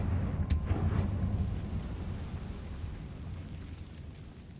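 A Confringo fire spell bursts in Hogwarts Legacy as one sharp blast right at the start, followed by a low rumble that slowly fades under steady game ambience.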